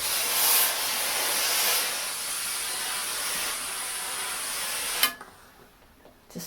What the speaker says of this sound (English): just steam with your iron.